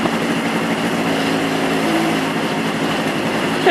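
A 1976 AMF Harley-Davidson Aermacchi SS 250 motorcycle engine drones steadily while riding in top gear at low revs, a continuous close engine hum with no speech.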